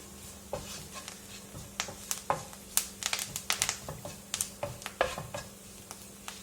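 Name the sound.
curry leaves sizzling in hot coconut oil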